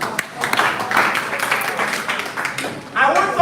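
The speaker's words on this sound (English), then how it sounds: "Clap for yourself." Audience applause breaks out at a youth national convention computer training session, a dense wash of clapping lasting a few seconds with a fresh burst near the end, voices mixed in.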